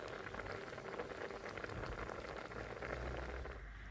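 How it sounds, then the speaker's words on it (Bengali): Masoor lentils simmer in a pot with garlic and chopped onion, giving a steady, dense bubbling hiss that runs unbroken throughout at a moderate, fairly close level. "সব কিছু দিয়ে খুব ভালো করে মুসুর ডালটাকে সেদ্ধ করে নিচ্ছি।"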